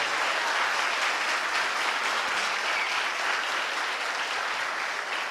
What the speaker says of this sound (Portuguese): Pode aplaudir antes, bem forte.